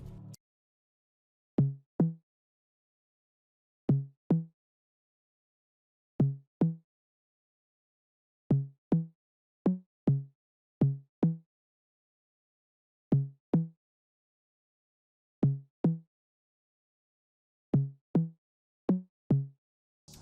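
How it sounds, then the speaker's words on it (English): Deep 808 bass hits from the AFROBANG pack for an Afrobeats beat, arriving in short paired thumps spaced a couple of seconds apart in a sparse, steady pattern. "we have this 808 sound"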